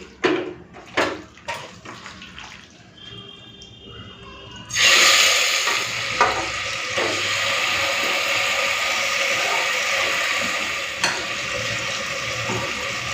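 Marinated mutton dropped into a hot pressure cooker, a few utensil knocks and clinks first, then a sudden loud sizzle that settles into a steady close hiss.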